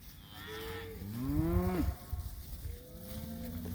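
A steer and other cattle moo at a livestock sale, several drawn-out calls overlapping at moderate distance over a low background rumble.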